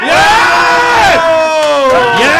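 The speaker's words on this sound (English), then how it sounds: "Oh, standing applause." A rap battle crowd cheers and shouts loudly in a dense, continuous roar of voices, with whoops and yells dominating rather than distinct clapping.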